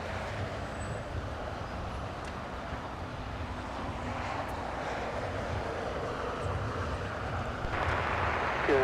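A LATAM airliner taxiing toward runway 25 right at Los Angeles International Airport gives off a continuous, fairly distant engine rumble and whine that builds slightly toward the end, with faint voices now and then.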